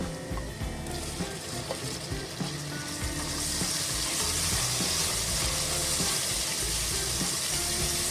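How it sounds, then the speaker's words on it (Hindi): Chicken gizzards with chopped tomatoes sauté in a pan, a steady sizzle that swells louder after a few seconds, with scraping stirs throughout and no voices. "और थोड़ी देर इसको हम भून लेते हैं इनको"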